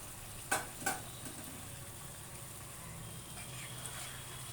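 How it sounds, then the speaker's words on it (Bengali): Kadai paneer with chopped coriander and kasuri methi being stirred in a pan: two brief scraping clatters near the start, then a soft steady frying hiss with faint scraping, no talk. "ভালো করে মিশিয়ে নেব।"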